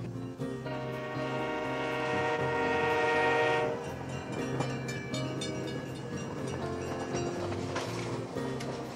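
The Malahat Dayliner passenger train on Vancouver Island sounds a sustained horn blast, then rolls by with a steady clattering rumble of wheels on rails, fairly close and loud.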